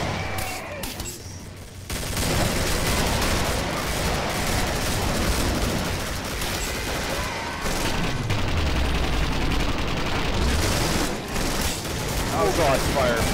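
Rapid gunfire and bursts of shooting fill a Killing Floor video game session, loud and nearly continuous with a few brief lulls, under occasional talk.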